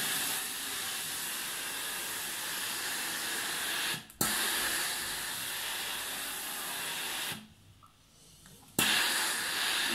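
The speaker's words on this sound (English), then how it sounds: "just spray here. Steam." A steam iron sprays bursts of steam onto delicate clothing hanging up, a loud steady hiss that runs for about four seconds, breaks briefly, resumes, then stops again for over a second before hissing once more.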